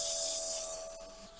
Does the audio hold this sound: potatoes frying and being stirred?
no